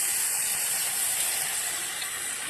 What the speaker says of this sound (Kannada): ಇವಾಗ ಹಾಲು ಹಾಕ್ತೀನಿ ಮೇಲೆ.